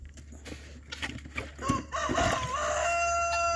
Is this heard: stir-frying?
no